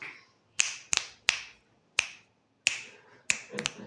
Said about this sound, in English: you snap your fingers